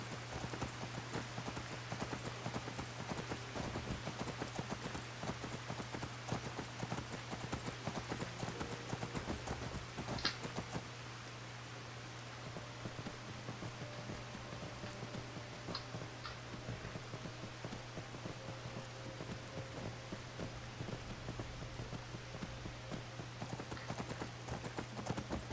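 A horse's hooves clip-clop steadily while it is ridden in the heavily modded video game Skyrim. The hoofbeats are continuous and fairly loud over a constant low hum and a rain-like wash of noise.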